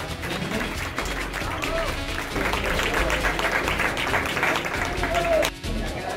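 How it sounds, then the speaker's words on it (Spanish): Spectators applaud at an RC car racing expo, broad clapping mixed with crowd noise and a commentator talking over it, steady throughout with a brief dropout near the end. "Silencio, un aplauso, un aplauso."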